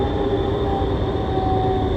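A VAL 208 automated metro train runs along its line, with a steady close rumble and a sustained whine holding for the whole two seconds.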